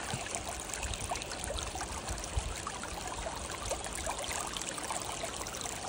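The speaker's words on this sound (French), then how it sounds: "Ça coule tranquillement." Water flows gently and continuously while gold panning outdoors, a soft, even trickling stream without distinct splashes and with no voices.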